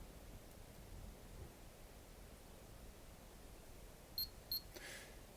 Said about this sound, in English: You'll hear those beeps, and that's showing that it's actually recorded a radioactive event